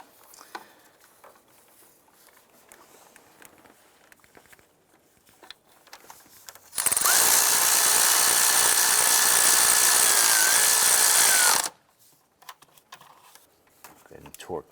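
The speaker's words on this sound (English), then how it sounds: "let's get our back bolt snugged up" A power tool runs on the rear starter bolt of a 2001–2005 Honda Civic: one loud, sustained whir of about five seconds, close by, between stretches of quiet clicking and handling noises.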